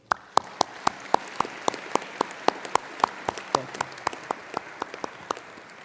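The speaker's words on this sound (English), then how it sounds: "Please join me in applauding the platform party." Sparse, slow clapping at a winter university commencement ceremony for the platform party, sharp individual claps spaced at a steady pace, rather thin and fairly distant in a large hall.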